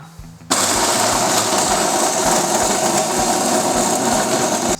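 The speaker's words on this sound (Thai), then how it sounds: "เครื่องปั่นตัวนี้ก็ตั้ง ออโต้ได้ทั้งหมด 6 Channel เลยนะฮะ ผมเลือก Channel C ครับ กด start" A high-tech CMI 700D blender set to an automatic program whirs loudly and steadily, blending coffee with ice, its dense motor roar and rattling ice starting abruptly after a brief quiet lead-in.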